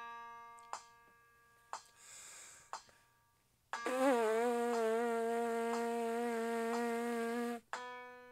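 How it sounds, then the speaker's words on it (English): Trumpet player's free lip buzz on a low C, without a mouthpiece: a steady, nasal buzzing tone held for about four seconds, close and fairly loud, preceded by a few short reference pitches and a quiet breath. "you're going to breath attack your first free lip buzz"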